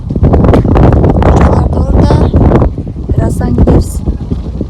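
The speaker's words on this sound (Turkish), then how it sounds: "Nasıl rüzgarlı şansımıza." Strong wind buffets the microphone outdoors throughout, a constant rumbling roar, while people talk over it.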